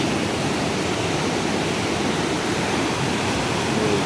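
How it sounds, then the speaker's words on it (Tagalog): Rushing river with strong waves, a dense, steady roar of churning water filling every moment, loud and close with no pauses. "Paano ka makakaligo dyan, oh? Ang lakas ng alon."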